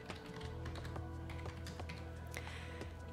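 A login and password go in on a computer keyboard: a quiet, close run of irregular key taps, some quick bursts and some spaced presses, set against a low steady background hum, with no talking.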